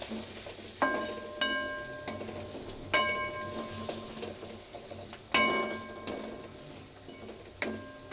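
Potatoes frying with turmeric in a pan, stirred with a utensil: a soft sizzle runs underneath while sharp scraping clinks land every second or so, some louder than others.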